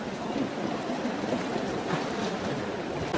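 A river rushes over smooth, rounded stones, producing a steady, full wash of flowing water that stays close and even throughout, with no voices.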